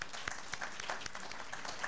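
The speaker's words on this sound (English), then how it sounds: "It is perfectly acceptable to applaud." Steady, soft applause from a gathering at a memorial service, a continuous patter of many hands clapping at a moderate distance.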